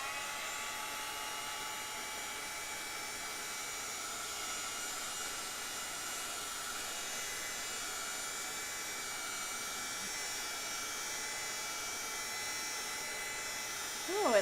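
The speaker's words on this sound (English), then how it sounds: "I would recommend hitting it with a heat tool, and I'm going to do that here" A heat tool blows steadily on stamped cardstock, a constant airy fan-and-heater whoosh that stays even and fairly loud throughout, with no talk over it.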